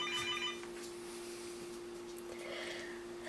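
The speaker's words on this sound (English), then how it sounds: "And the telephone's ringing." A telephone rings faintly in short bursts in a quiet kitchen during meat preparation, with a steady electronic hum underneath.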